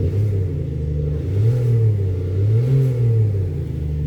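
An active exhaust sound system mimicking a Porsche 918 Boxster engine, a close, steady low rumble with two smooth rising and falling rev swells, no talking.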